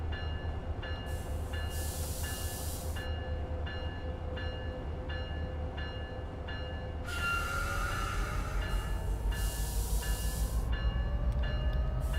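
Train running in a train video game, steady rumbling wheels and engine with a rhythmic clack, a rising whine near the end and brief horn-like tones, continuous and close with no talk.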